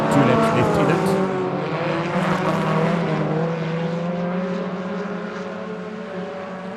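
Stock car race on a track with two laps left, several cars roaring past overtaking backmarkers; loud continuous engine drone with shifting pitch, under an announcer's commentary.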